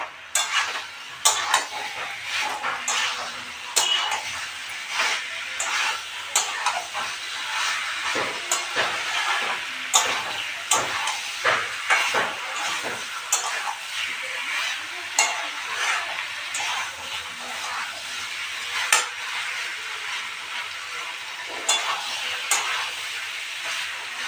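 Raw prawns are stirred and sautéed in a pan, with repeated scraping and clinking strokes of a utensil over a continuous close sizzle and hiss, and no one speaking.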